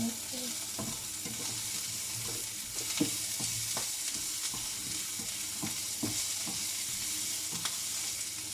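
Carrots sizzling and browning in a pan, a steady low hiss with occasional soft clicks of stirring utensils against the pan, fairly quiet and without voices.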